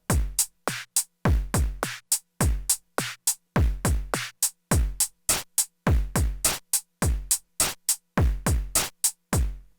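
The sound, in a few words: drum machine pattern with snare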